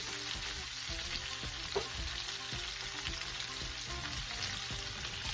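Onion stirred into a sizzling pan with roasted poblano peppers, a steady low frying hiss broken by regular, rhythmic scraping strokes of a utensil.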